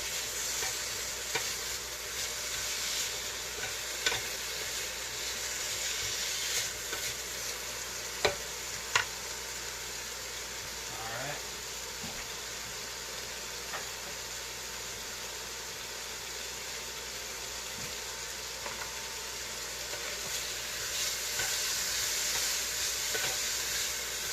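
Burrito bowl ingredients sear in a hot pan with a continuous close sizzle, occasional stirring scrapes and small pops over a steady hiss, no talking.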